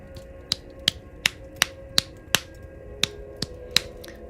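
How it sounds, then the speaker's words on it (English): Hand claps struck irregularly right into a microphone, about ten sharp isolated cracks spaced unevenly over a few seconds against a quiet background. "I don't know if my mic let the clapping come through or not."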